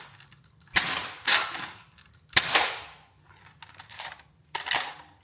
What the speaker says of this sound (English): Three shots. I'm just going to slam fire them.